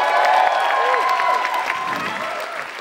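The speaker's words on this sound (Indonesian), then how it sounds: "Tepuk tangan sekali lagi untuk" Audience applause and some cheering for Akbar at a stand-up comedy show, loud at first and slowly fading, with a voice speaking over the clapping.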